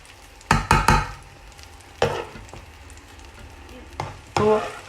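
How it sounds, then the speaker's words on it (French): Bell peppers hitting reused hot oil in a pan, cooked for a ratatouille: sharp bursts of sizzling and stirring scrapes come in irregular clusters, close and fairly loud, with no talking. "Ensuite, je vais réutiliser mon huile pour sauter mes poivrons."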